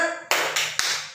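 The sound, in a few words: hand clapping rhythm, tepuk semangat classroom clap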